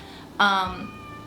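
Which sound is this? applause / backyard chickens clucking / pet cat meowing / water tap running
pet cat meowing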